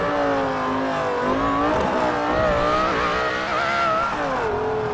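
A loud car engine at a GTA 5 car show revs continuously, its pitch rising and falling through several throttle swells, close and unbroken, with no voices.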